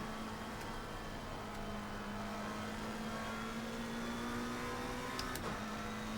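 Race car engine in a racing sim driven with a triple-screen setup, a steady mid-pitched drone holding near constant with slight pitch shifts, close and continuous throughout, with a brief click near the end.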